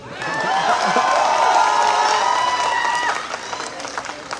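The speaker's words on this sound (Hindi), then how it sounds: "और बजाओ ताली।" A seated audience claps and cheers together at a youth dialogue event with a state party president, the applause steady and loud for about three seconds, then tapering into scattered claps with some chatter.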